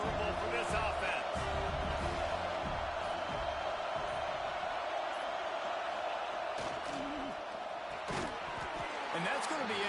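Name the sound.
stadium crowd noise at USC college football game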